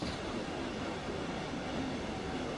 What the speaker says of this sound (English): I've really missed driving the 395 because it's actually a really nice train